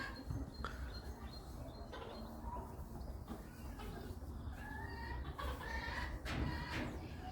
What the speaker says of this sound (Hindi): ये देसी मुर्गी है वैसी